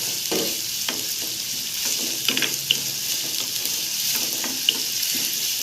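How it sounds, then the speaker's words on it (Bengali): Onion lightly frying in a pan before chicken mince is added for wonton filling, a steady soft sizzle with a few scraping stirs and small clinks, close and alone without talk. "পেঁয়াজটা একটু হালকা ভেজে তারপর আমি এটার মাঝে কিমাটা দিয়ে দেব"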